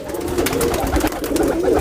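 Steady, close cooing from a loft of fancy flying pigeons, a soft continuous throaty murmur with no talking.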